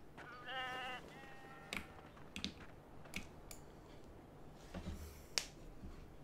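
Sheep in the video game Beyond Two Souls give a short, faint bleat near the start, followed by scattered soft clicks and taps against quiet background ambience.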